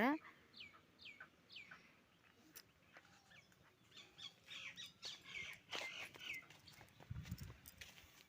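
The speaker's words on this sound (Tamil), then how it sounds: "அதுக்கப்புறம் கோழி நிறையா வச்சுருப்பாங்க" Chickens kept in a village yard squawk and cluck in scattered bursts at moderate distance, with people talking at times nearby.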